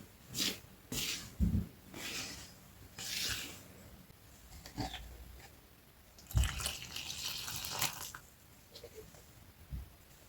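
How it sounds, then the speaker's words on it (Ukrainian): Warm water is poured into a bowl of bread dough ingredients in short, quiet splashes and trickles, with a longer pour in the middle. "вливаю теплу воду"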